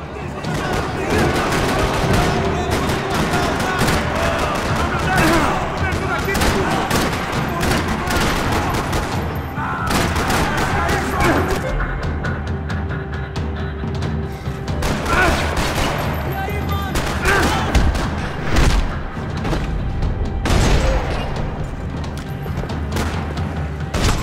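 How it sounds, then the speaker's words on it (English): Gunfire in a parking lot in Max Payne 3: repeated loud bursts and single shots crack and boom in quick irregular volleys, some close, some echoing, with a voice speaking at times beneath the shooting. "Another parking lot rattling with gunfire."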